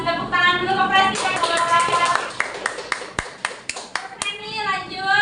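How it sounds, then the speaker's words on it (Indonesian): Schoolchildren in a classroom clap their hands in a burst of sharp, irregular claps, with children's voices talking and calling out before and after. "Kasih tepuk tangan dulu ke presiden."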